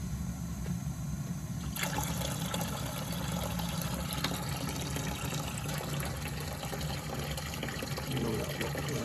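Water rushes and gurgles steadily as it drains from a Weil-McLain steam boiler, a continuous splashing flow that grows louder after a couple of seconds.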